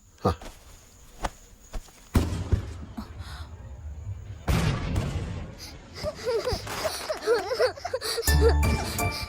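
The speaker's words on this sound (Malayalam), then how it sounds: "പടക്കം പൊട്ടണ കേട്ട് പേടിച്ചുണന്നതാ രണ്ടാളും." Firecrackers bursting in a film scene, a few sharp cracks at first and then denser popping and rumbling bursts with jingling and voices mixed in, loud and close.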